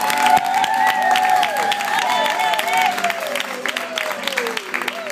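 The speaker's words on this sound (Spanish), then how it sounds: "voy a pedir un fuerte aplauso" A crowd at an acoustic concert in Barcelona applauds loudly and continuously, with cheering and shouted voices over the clapping.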